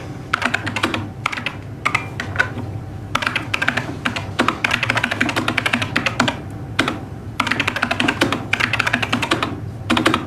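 Fast, close typing on a computer keyboard, clattering in bursts separated by short pauses, loud and alone without voices.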